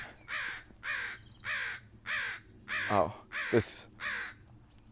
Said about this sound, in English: I've interrupted this crow's territory here.